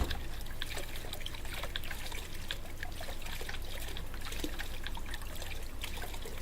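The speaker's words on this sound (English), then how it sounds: "who turned on the faucet?" Water trickles and dribbles from a busted faucet in the video game Crooked Man, a steady faint stream with small splashes continuing throughout.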